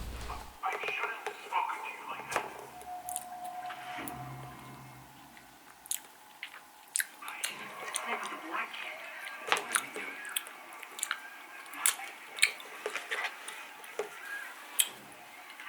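Crisp crunching bites of a crunchy snack eaten with ice cream, repeated irregularly at close range, with soft chewing between them and occasional quiet voices.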